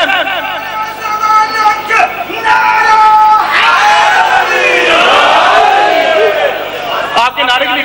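A packed crowd at a Muharram majlis of mourning (17 Safar, Sohdra) chants religious slogans loudly and together in waves. The mass of voices rises and falls close by, with a leading voice calling out between the answers.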